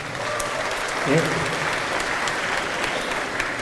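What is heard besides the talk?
audience applause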